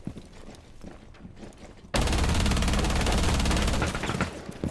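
Rapid automatic gunfire in a shooter video game, a dense, loud, sustained burst that starts suddenly after quieter game ambience and keeps going for several seconds, with faint background sounds before it.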